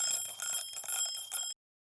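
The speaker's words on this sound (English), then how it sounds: "I have an egg timer." An egg timer rings with a bright, rapid metallic jangle in close bursts for about a second and a half, then stops abruptly into silence.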